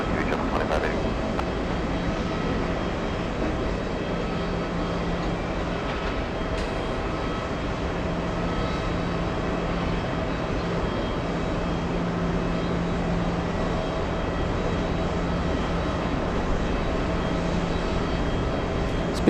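Steady broadband jet roar of a fixed-wing airliner near JFK Airport, running loud and constant throughout, with faint radio voices of air traffic control talking over it.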